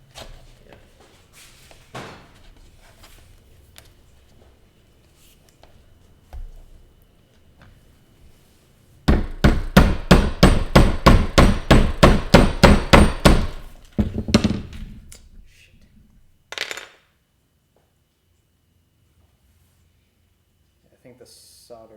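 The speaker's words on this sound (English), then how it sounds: "Can you use like a little hammer and just tap it in there?" Rapid run of about a dozen sharp, loud metallic taps from a small hammer driving a motor part into place, preceded by quiet handling noises and followed by a few scattered knocks, then near silence.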